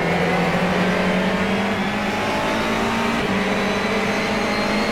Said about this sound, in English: Drag race with the Toyota. Looks like the Toyota's won it.